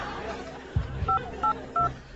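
Cell phone keypad tones sound as three short, evenly spaced beeps, fairly close, with low murmuring and soft background noise around them.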